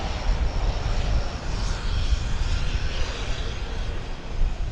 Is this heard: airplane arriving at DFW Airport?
yes